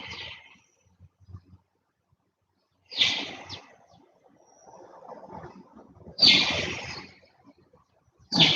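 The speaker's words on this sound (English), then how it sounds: "Birds are here." Birds call outdoors in short, bright bursts separated by quiet gaps, with soft rustling or flapping sounds in between, fairly close and moderately loud.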